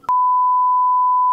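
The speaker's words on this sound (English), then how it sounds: "I had to bleep out their name and cover up their face throughout this entire video." A loud, steady, pure-toned censor bleep sounds alone for just over a second, covering a spoken name, starting and stopping abruptly.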